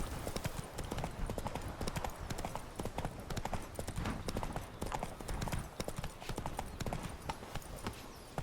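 Roach the horse in The Witcher 3 gallops with rapid, loud, rhythmic hoofbeats that keep going without a break, and a voice speaks faintly under the hooves.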